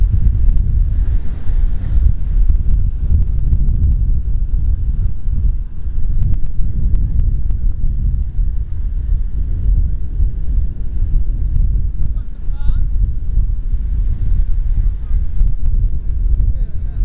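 Strong gusts of wind buffet a camera microphone on a beach at Pantai Sepang in Bali during a kite flight, producing a loud, continuous low rumble with surf in the background.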